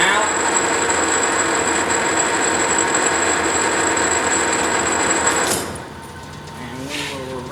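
A Monarch Model K 13 x 30 gear head engine lathe runs with its carriage feed engaged, giving a steady, loud mechanical whir with a high whine that cuts out abruptly near the end, leaving quieter machine noise.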